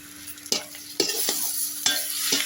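Tomatoes frying in a pan for curry, a steady close sizzle punctuated by four distinct stirring scrapes at a slow, uneven rhythm, with no talking.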